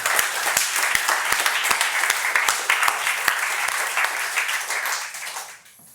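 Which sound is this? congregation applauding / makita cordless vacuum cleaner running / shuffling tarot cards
congregation applauding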